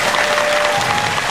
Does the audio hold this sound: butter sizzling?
no